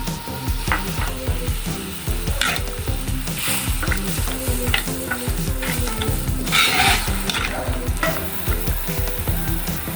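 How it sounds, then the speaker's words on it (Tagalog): Soy sauce and vinegar sauce for kikiam boils hard in a pan while being stirred, a steady bubbling sizzle broken by repeated scraping strokes, loud and close, with no talking. "Ayan, kulong-kulo na yung ating soy sauce."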